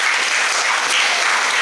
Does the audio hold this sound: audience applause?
yes